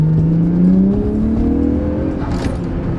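A turbocharged car with a boost controller pulls hard through third gear, its engine note climbing steadily in a loud, close run under load.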